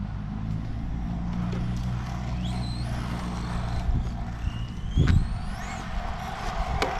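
Tamiya XV01 brushless radio-controlled car laps a parking lot, the motor's whine rising and falling in quick sweeps, with a brief thump partway through and a constant low rumble behind.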